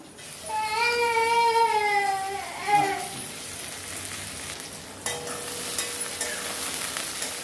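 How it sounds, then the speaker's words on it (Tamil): Tomatoes and onions are sautéed in a pan, a steady sizzle with a sharp clink of utensil against the pan near the middle; a voice speaks briefly over the frying. "வெங்காயம் நல்லா வதக்கிட்டு இப்போ கொஞ்சம் தக்காளியும் இதில் வதக்கிக்கிடலாம்"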